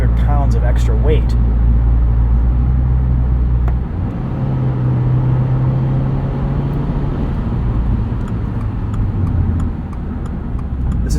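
Steady, loud engine drone and road rumble from a 2022 Subaru WRX GT with a CVT under way, continuous throughout with a slight shift in tone partway through; someone talks over it.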